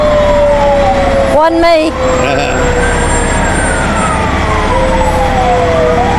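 Several emergency vehicle sirens wail with rising and falling tones at a Christmas parade in Tullahoma, sustained over a steady engine rumble, with a brief voice speaking partway through.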